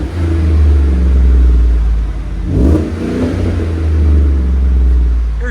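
A 2017 Chevy Silverado LT with a 5.3L V8 and Borla Pro-XS exhaust revs loudly up close, its deep rumble swelling and easing off over a few blips of the throttle.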